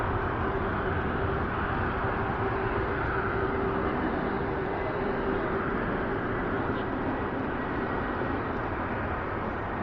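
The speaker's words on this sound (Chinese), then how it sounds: "我又听到了飞机的轰鸣声又一架东航的飞机降落了。" A China Eastern airliner lands at Shanghai's Hongqiao Airport. A steady, heavy jet roar holds throughout, with no voices.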